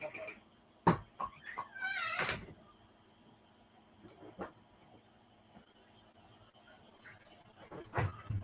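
Outside in the cold, a cat meows to be let in, giving a few short meows among scattered knocks and a door-like thud, with some speech nearby.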